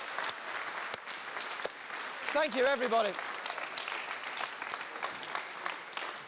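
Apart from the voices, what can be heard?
audience applause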